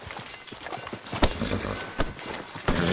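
Horse hooves clip-clopping at a walk in Red Dead Redemption 2, an uneven run of close, sharp hoof strikes over soft ambient background, with faint voices in the game.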